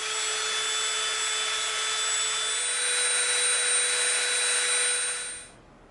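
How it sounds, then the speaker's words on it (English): A Dremel rotary tool sands and softens the edge of EVA foam, giving a steady high-pitched whine with a grinding hiss that runs continuously before spinning down and stopping near the end. "now we're going to take our Dremel, we're going to soften that edge just a little bit around both"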